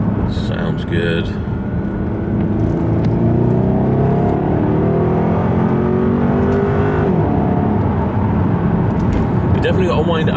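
Jaguar XK with a naturally aspirated V8 revs hard while accelerating from inside the cabin, its engine note climbing steadily through the gears. A loud, continuous roar with road rumble underneath runs throughout.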